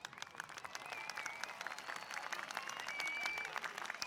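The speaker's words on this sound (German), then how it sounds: "hören sie von weitem das Publikum vom Unihockey-Match im Dorf." Crowd at a village floorball match, faint and far off, giving steady applause and cheers with a few high whistles over it.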